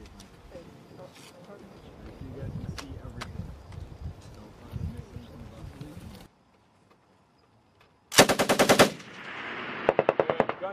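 Machine gun fire during Marine fire-and-maneuver training: after a stretch of muffled field noise, a near, loud burst of rapid automatic shots rings out, then shorter repeated bursts follow.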